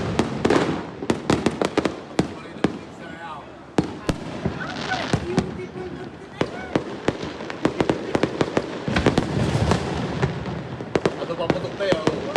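Fireworks and firecrackers explode at a Filipino family New Year's Eve celebration, with sharp cracks and booms popping irregularly near and far while people talk and shout in the background.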